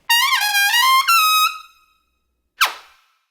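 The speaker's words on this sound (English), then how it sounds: "Now, a cha is basically a very similar sound," A brass horn sounds a held tone with a bending start, then a second short note, followed after a pause by one sharp, clipped cha-style accent that decays quickly, heard alone and close.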